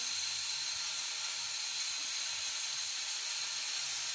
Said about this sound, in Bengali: এবার এটা ভালো করে কষিয়ে নিচ্ছি